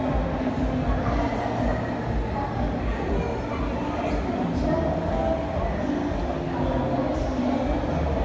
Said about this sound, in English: we're at the metro station